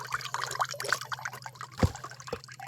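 Water dribbling and trickling out of a freshly cut coconut in a village orchard, a soft, uneven liquid patter with a brief louder splash near the end.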